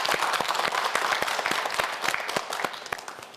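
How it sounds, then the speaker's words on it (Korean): A studio audience at a televised quiz show claps for a contestant, giving a dense, lively burst of applause that stays full and close before easing slightly toward the end. "박상윤 학생에게도 뜨거운 박수 부탁드립니다"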